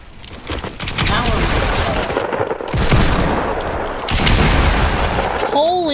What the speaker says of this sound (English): Are we getting shot at again?